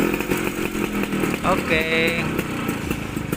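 A Vespa scooter engine running and revving hard, a loud buzzing drone with a rising rev surge in the middle, while a person speaks over it.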